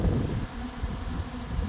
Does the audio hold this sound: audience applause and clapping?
no